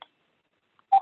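A keypad tone from pressing 1 on a telephone sounds near the end, one short bright beep after a faint blip at the start.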